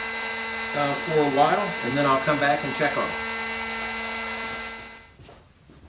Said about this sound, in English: Turn the heat gun to cool.